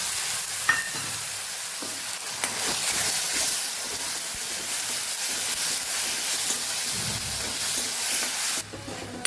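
Tomatoes tossed into a pan of fried ginger sizzle and hiss steadily, with scraping stirring clatter and a brief utensil knock, the frying holding close and even before cutting off near the end.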